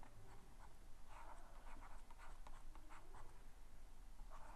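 Chalk or marker scratches across a board during a physics lecture, leaving soft, faint strokes in short bursts over a low background hiss.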